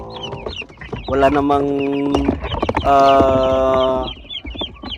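Broiler chicks peep with thin, repeated high chirps throughout, partly under someone talking loudly nearby.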